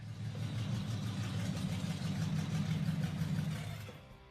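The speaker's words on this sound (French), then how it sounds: "Je voulais ce moteur en particulier à cause du son." A car engine idles steadily inside a workshop garage, a loud, continuous low rumble with a constant throb that holds for several seconds before easing off at the end, no talking.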